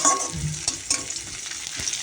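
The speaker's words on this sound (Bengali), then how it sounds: "পেঁয়াজটা একটু ভাজা ভাজা করে তারপরে আলুটা আর পেঁয়াজ কলিটা দিয়ে দেবেন" Onions sizzle in a pan over a lowered gas flame, a continuous close crackle broken by stirring scrapes of a ladle against the pan.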